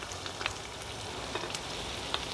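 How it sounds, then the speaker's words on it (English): Three chopped onions hit hot oil in a cast-iron chicken potjie pot, giving a steady close-up crackling sizzle with scattered sharper pops throughout, no voices over it. "Ooh, sizzle."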